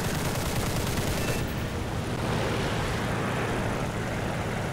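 Dense, continuous rapid gunfire roars with engine drone from a Ki-43 III Otsu fighter's machine guns firing nonstop in a game.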